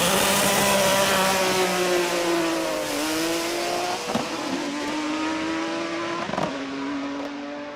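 A race car fitted with Kinsler manifolds and six throttle bodies blares past at full throttle, its loud engine note falling and rising through gear changes with brief crackles, continuous and without voices.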